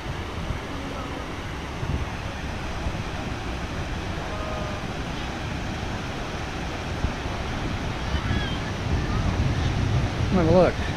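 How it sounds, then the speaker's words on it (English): Steady wind roaring outdoors on a beach in Sattahip, Thailand, with surf rumbling underneath, buffeting the microphone; a voice briefly speaks near the end. "Very windy."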